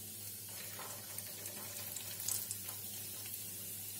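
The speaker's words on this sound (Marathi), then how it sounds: "ड्रायफ्रूट चांगले परतून घ्यायचे तुपामध्ये।" Dry fruits frying in ghee for vermicelli kheer, a faint, even sizzle that holds steady with a soft stir near the middle.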